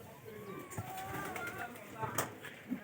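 Pigeons in a loft cooing in low, soft repeated calls with a faint wing rustle, moderately distant, with a person talking over the birds.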